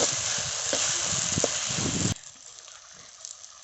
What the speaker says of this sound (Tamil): இப்போ தக்காளி வெங்காயமும் நல்லா வதங்கிடுச்சு